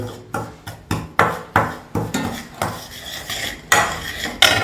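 A spoon scrapes and clinks around a container, mixing a homemade ant-repellent spray, in a steady rhythm, about nine strokes, close and clear with no talking.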